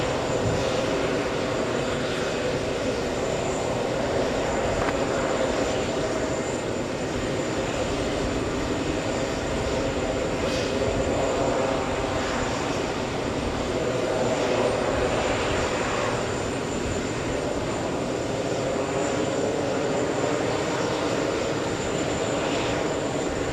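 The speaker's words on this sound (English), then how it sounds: "So we're looking at Virgin 9 Heavy. That's an A330 Neo." A Virgin Airbus A330neo jet airliner rumbles with a sustained, moderately loud engine roar and a faint high whine across a long stretch, with slow swells in intensity and no voices.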